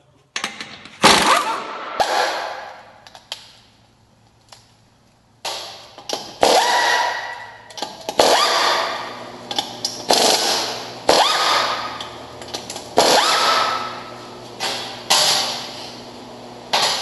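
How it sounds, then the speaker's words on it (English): Lug nuts come off the wheel of a Ford F250 Super Duty 4x4 in a series of loud, close, rattling bursts, each a second or so long, separated by short pauses. "Remove the 8 lug nuts."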